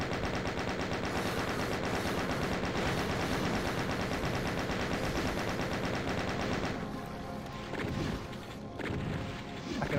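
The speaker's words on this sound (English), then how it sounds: "Just chain gun all of them" A chain gun in the Doom mod MyHouse.WAD fires in a loud, continuous rapid burst for about seven seconds, then gives way to scattered softer impacts and shots.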